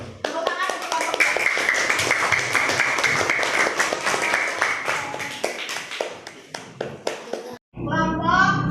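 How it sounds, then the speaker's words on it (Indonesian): A classroom of students claps for group 2 after their presentation, dense sustained applause of many hands filling the room, with children's voices mixed in and talk resuming at the end. "Tepuk tangan untuk kelompok 2."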